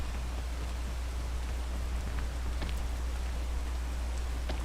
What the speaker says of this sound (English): I probably should wait till it stops raining.